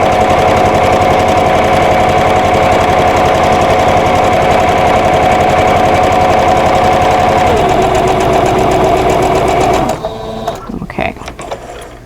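Sewing machine stitching a vintage Friendship Star quilt block, a loud, close, steady mechanical whir with fast needle chatter that shifts pitch near the end, then stops, leaving a few handling clicks.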